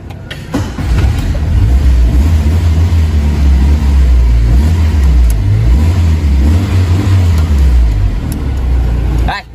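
A 1995 Kia Pride car engine idles steadily nearby, its low rumble holding throughout with slight revving swells, while people talk over it.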